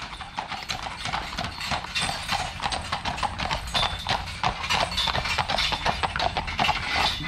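Horses, with foals trotting alongside, pull carriages of what looks like a travelling circus on a road in Brandenburg; steady, close clip-clop hoofbeats repeat in a continuous even rhythm over wheel rumble, with a voice heard faintly.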